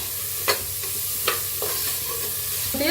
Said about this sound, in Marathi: त्याच्यात मोड आलेली मटकी त्याला हलवून घेऊया 1 मिनिट